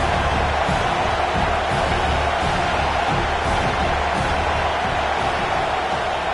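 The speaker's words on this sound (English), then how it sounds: "This crowd trying to make life miserable for this offense" Dense, steady roar of a stadium crowd at a Texas at Auburn college football game, loud and unbroken throughout, a wash of massed voices with no single sound standing out.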